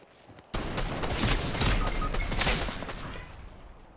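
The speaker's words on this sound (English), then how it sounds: "Who the fuck just sniped at you?" Game gunfire during a mountainside battle: a sudden burst of sharp, rapid shots follows a quiet lead-in and keeps going as a dense crackling volley. The shots are loud and close, then taper off toward the end.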